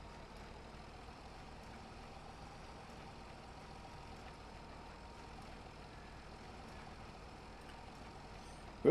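A small tractor engine in Farming Simulator 22 runs at a steady idle for the whole stretch, a constant low rumble with no talking, then a short loud bump right at the end.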